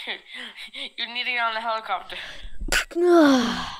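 During online dinosaur game play, a sharp sneeze bursts out close and loud after a stretch of speech, with a voice talking on straight after it.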